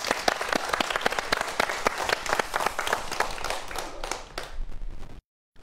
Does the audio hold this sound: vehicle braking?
no